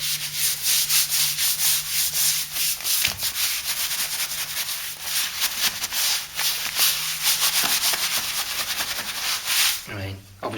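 A brush spreads PVA sealer across a plaster wall in continuous close scrubbing strokes, a soft rasping that runs steadily throughout, with a brief clatter near the end.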